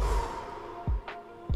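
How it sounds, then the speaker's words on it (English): A soft breathy exhale with a roomy reverberant tail, heard alone, with low thumps at the start and near the end. "one last cool sound effect I added was I recorded my own voice breathing out"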